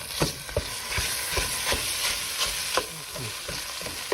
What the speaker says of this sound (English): I'm going to start breaking it up and brown it.